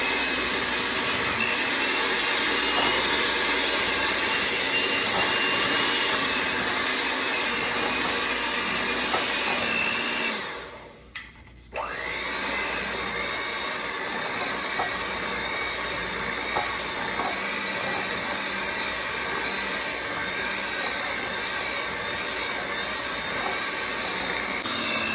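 An electric mixer beating peanut butter and sugar at medium speed for cookie dough, a loud steady motor whir running continuously, briefly cutting out midway before starting again at the same pitch.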